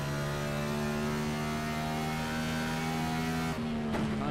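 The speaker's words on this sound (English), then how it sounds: "the engine just spitting out any extra fuel that it's got on the overrun" Next Gen NASCAR V8 in a racing sim at New Hampshire, holding a loud, steady high-revving drone before lifting off near the end with a brief crackle on the overrun, and no voices.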